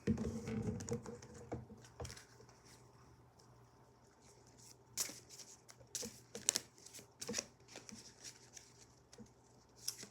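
Tarot cards are shuffled in quick, papery bursts: a dense riffle at first, then scattered flicks and snaps, close and quiet.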